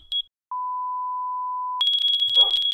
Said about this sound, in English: the fire alarm will beep, and if you right click it, it gets a lot louder as the fire goes on